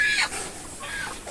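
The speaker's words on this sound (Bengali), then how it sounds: "এগুলো আমার খামারের মুরগি।" Egg-laying farm hens cluck in a couple of quick, close bursts, a brief busy chatter of poultry calls.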